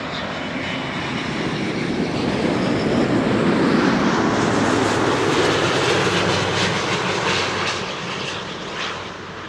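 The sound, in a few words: Thai Airways Airbus A350 airliner engines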